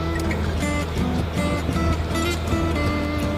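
Honda Goldwing motorcycle in motion on a warm New Jersey day, a steady close engine hum blended with dense wind rush, continuous and loud without talk.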